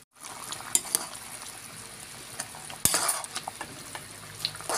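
Potatoes go into a cooking pan for a home-style Filipino ginamay dish, giving a close continuous sizzle with stirring clatter and a sharp clank near the middle.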